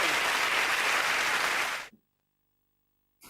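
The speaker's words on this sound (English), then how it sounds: "Give Karen a big round of applause all the way from Will Stanley." A TV game-show studio audience bursts into loud, dense applause for a contestant, carrying steadily for about two seconds before cutting off abruptly into silence, with a brief return of sound at the very end.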